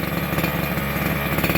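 The 30cc two-stroke engine of an FS Racing 1/5-scale gas-powered carbon Hummer RC truck, running on lawnmower fuel mix, idles close by with a loud, buzzy, even putter that holds steady for the whole short stretch.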